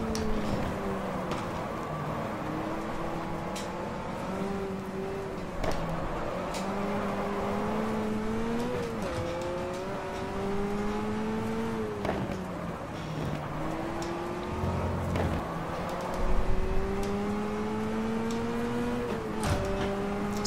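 Renault Alpine A110 engine in the GT Legends racing game on the Nürburgring, revving high through repeated rising and falling gear pulls, loud and continuous from start to finish.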